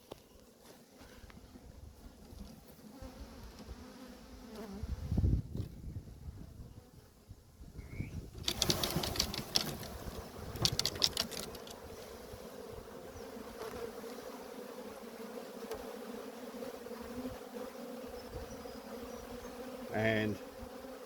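A honey bee swarm is shaken into a hive, with a constant close buzzing drone from many bees, then a loud rustling thump and burst of scrabbling as the cluster drops in, and the buzzing carries on afterward.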